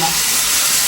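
Chicken pieces fry loudly in melted butter, a dense, close, continuous sizzle and hiss with no talk over it.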